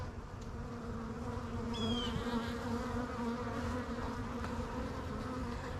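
Honeybees at an open hive during a spring inspection hum in a dense, continuous drone close by, a swarm of overlapping buzzes with no talking.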